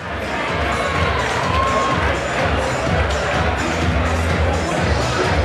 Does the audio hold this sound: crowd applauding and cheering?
yes